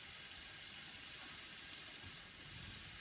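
Onions sautéing in a pan give a steady, dense hiss and sizzle that holds evenly throughout, close up with no voices over it.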